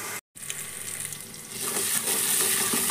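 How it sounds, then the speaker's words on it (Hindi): Onions sizzling in a pan while cooking down for rajma masala, a soft steady hiss of frying that brightens and grows a little louder toward the end, heard close with no talking. "अच्छे से प्याज भून गया है।"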